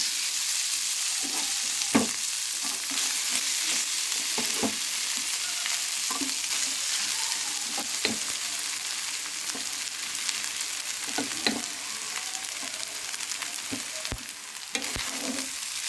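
Cooked rice with ajwain and turmeric fries and gets stirred in a pan, a continuous close sizzle with repeated scraping and tapping of a spatula against the pan, no talking.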